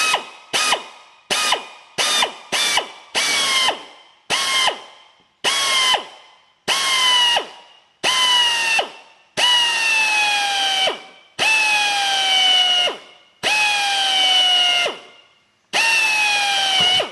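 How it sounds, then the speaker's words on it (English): A power drill boring screw holes to mount an intercooler, heard as a series of short whirring bursts that rise in pitch, followed by longer spinning runs, close and loud with pauses between each. "and then drill this hole here."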